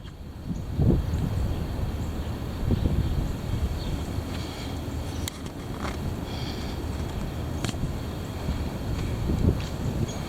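Heavy wind buffets the microphone in a steady, loud, broadband roar with gusty surges throughout, no voices heard.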